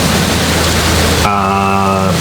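Heavy rain as a loud, steady, broadband hiss that fills the space, then cuts off abruptly partway through into a sustained low tonal drone.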